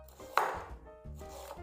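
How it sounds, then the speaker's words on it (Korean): A knife slices through ginger on a cutting board, giving two quiet, distinct cuts, each with a crisp tap, in a calm kitchen with no talking. "생강을 얇게 슬라이스를 해주신 후"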